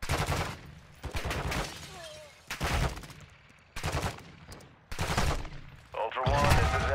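Bursts of automatic and single gunfire in the Call of Duty DMZ video game on Ashika Island, loud repeated volleys in several clusters with short gaps, while a player talks between the shots.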